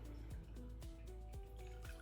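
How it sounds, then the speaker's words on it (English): Water poured out of a matcha-making vessel: a quiet, liquid, gurgling pour with short dripping splashes and rising bubbly tones over about two seconds. "I will throw this water"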